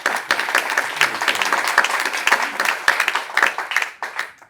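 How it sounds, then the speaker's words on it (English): Audience applause at a perinatal forum, a roomful of hands clapping with distinct individual claps audible, close and fairly loud before tapering off. "I'd really like to have a round of applause for Dr."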